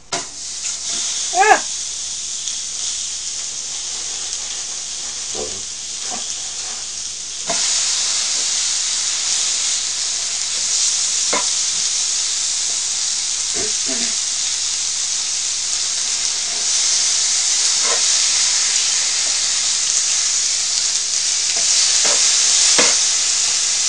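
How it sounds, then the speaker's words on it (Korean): Beef sirloin sizzling on a grill during a Korean barbecue meal, a steady bright hiss of frying with occasional pops and faint background noises. "고기들아 바짝 익어라 복부인과 지루님이 맛있게 먹어줄 테니"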